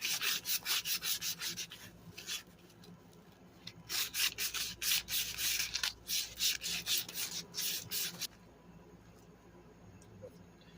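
Sandpaper rubbed by hand over MTD lawn mower parts to clean them before painting, rapid rhythmic rasping strokes in close bursts that pause and resume, then quieter scraping toward the end.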